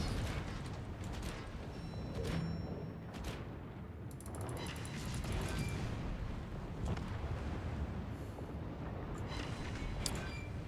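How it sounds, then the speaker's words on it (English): Heavy underwater depth charge detonations in a naval warship video game, deep rumbling booms repeating through the clip over continuous engine and sea noise, loud and close with no talking. "Wanted to accelerate there, not hit the depth charges."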